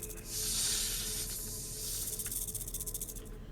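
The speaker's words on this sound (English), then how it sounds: "I hear a snake." A snake hisses in the video game Little Goody Two Shoes, a steady, loud breathy hiss that swells and holds, then breaks into a quicker pulsing rattle-like flutter toward the end.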